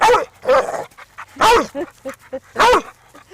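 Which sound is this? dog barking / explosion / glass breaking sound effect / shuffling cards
dog barking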